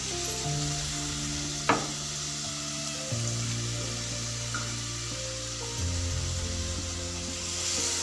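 Vegetables fry in hot oil for an Odia curry, giving a steady close sizzle and hiss with a faint low hum and a single sharp clink partway through.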